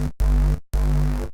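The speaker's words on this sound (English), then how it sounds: "altogether, the Antidote sounds like this" Fat, wide Reese bass from Reason 8 run through Antidote with compression and stereo widening, sounding as two long sustained notes separated by a short gap, loud and heavy in the low end.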